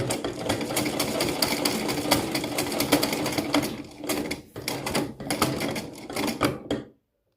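A manual sewing machine with thread bunching underneath the fabric runs steadily with a dense, rapid mechanical clatter for about seven seconds, briefly stuttering near the end before stopping abruptly.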